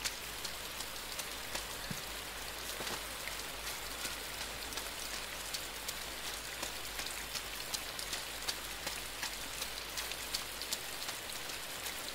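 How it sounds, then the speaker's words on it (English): Steady rain in the dark side-scrolling video game INSIDE, a continuous close hiss of drops falling on surfaces with scattered sharper droplet ticks throughout, heard alone with no voices. "Just rain and me."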